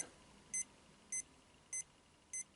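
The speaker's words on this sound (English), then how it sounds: "there's a little beeping sound there, and that's indicating that it's overexposing" Four short, high-pitched electronic beeps from an Olympus OM4Ti camera's overexposure warning repeat at an even pace, about one every half second or so, over a faint steady hiss.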